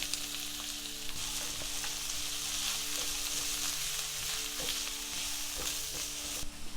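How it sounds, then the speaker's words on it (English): Chopped onions sauteing in a pan with cardamom, cinnamon, cloves and bay leaves, a soft continuous sizzle punctuated by light stirring clicks, fairly quiet and uninterrupted by talk. "And now I'm going to add the chopped"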